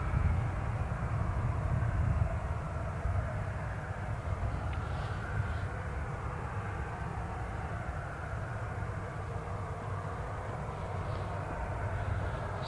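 An Emirates Boeing 777 airliner approaches Newcastle International Airport while still far out, a steady, distant broadband jet roar that holds evenly throughout with no talking.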